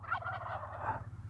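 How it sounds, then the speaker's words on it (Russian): Wild turkeys gobbling in the distance during spring in Zion, Utah, a rolling, wavering call sustained over a low steady hum, with no talk. "увидели вот этих вот бродящих индюков"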